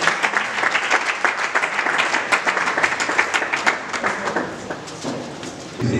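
Church congregation applauding at a 2022 New Year greetings service, a dense steady clapping crowd for several seconds that thins near the end.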